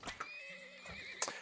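A horse neighs in the oil-drilling game Turmoil, a short bright whinny with a wavering pitch, framed by a few soft hoof clops close up.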